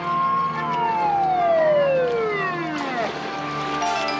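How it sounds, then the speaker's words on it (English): A police car siren from Terwilliger's patrol car wails loud and close, its tone sweeping steadily downward over about three seconds before a fresh rising wail cuts in, with traffic noise underneath. "Why is it I can always tell the sound of Terwilliger's siren?"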